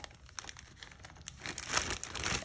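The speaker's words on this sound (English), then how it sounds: "So we're going to put them in this plastic bag." Plastic bag crinkling as biscuits for a dessert are dropped in, soft rustles at first that grow louder and denser toward the end, alone without voices.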